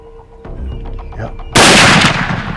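A single loud rifle shot rings out during a hunt in Tanzania, a sudden sharp blast following quiet outdoor ambience and faint voices, then a lingering roar as it fades.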